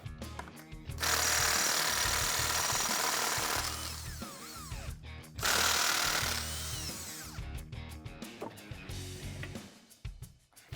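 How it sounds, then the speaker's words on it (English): An impact wrench with a 21mm socket removes lug nuts from a 2015-2017 Mustang's front wheel, giving loud rattling bursts of hammering buzz separated by short pauses, close by. "pop off the 2 front wheels so we can gain access to the inner fender well, which we're going to do right now using a 21mm socket"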